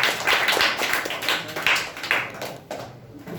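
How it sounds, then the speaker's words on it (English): A small audience at a children's public speaking competition claps for a young speaker, a few loose, uneven claps close by that thin out toward the end. "clap for Ayush"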